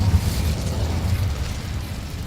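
Incendio fire spell cast in Hogwarts Legacy: a brief, loud low whooshing burst of flame that fades over about two seconds, heard alone.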